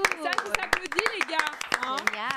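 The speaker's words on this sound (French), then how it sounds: "Ça vous applaudit." Studio audience applause on a live French talk show: scattered claps come in sharp bursts under a continuous speaking voice.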